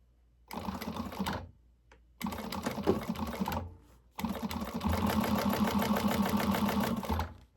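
A sewing machine top stitches a front panel through several layers, using a longer stitch length: three bursts of steady, close mechanical whirring separated by short pauses, the last run the longest and loudest.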